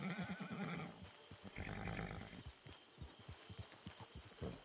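A horse in Red Dead Redemption 2 gives a long, shaky whinny, followed by snorts and clip-clopping hooves, fairly quiet and close with no talk over it.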